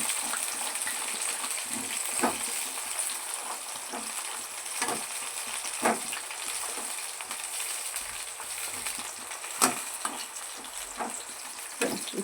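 Bitter gourd slices frying in hot oil, a continuous crackling sizzle with scattered spatters and stirring knocks, close and steady with no talk.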